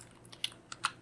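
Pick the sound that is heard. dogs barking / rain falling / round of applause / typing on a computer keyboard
typing on a computer keyboard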